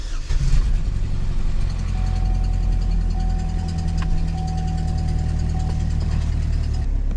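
A car engine idles steadily and loudly nearby during OBD2 scan tool diagnostics, a constant low rumble with a faint tonal whine.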